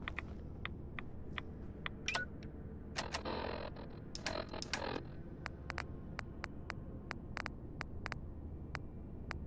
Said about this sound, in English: That clicking noise from your pit-boy can't be good.